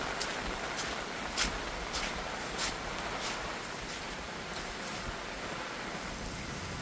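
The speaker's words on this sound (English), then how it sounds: "the rain's coming to a stop right now" Steady rain falls outdoors after a flash flood, a dense even hiss with scattered sharper drops, fairly loud and continuous with no voices.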